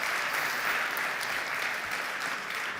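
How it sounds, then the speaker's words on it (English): An awards-night crowd gives Kat a round of applause, a brief, full, steady burst of many hands clapping with no voices on top. "Another round of applause for Kat, everybody."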